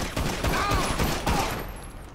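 Rapid gunfire from a police-roleplay video game shootout, a dense burst of shots lasting about two seconds at steady loudness with no voices.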